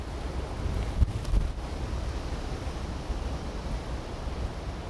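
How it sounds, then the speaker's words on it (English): Strong, steady wind roars past the microphone during Hurricane Milton, a broad continuous rush with a few brief buffeting gusts, with no voices. "I'm going to stop talking for a second and you can even hear the howling of the wind"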